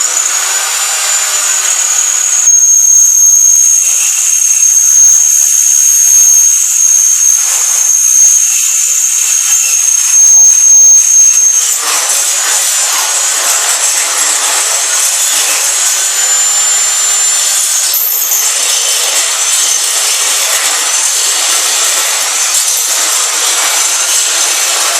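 A power drill bores holes through a galvanized steel tube to mount a knife, giving a loud, continuous grinding whine that holds steady throughout with slight shifts in pitch.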